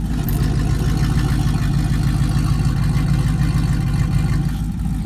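A cammed Ram Megacab gas pickup truck with a straight-pipe exhaust idles nearby, a loud, steady, lumpy low rumble pulsing evenly throughout with no talk over it.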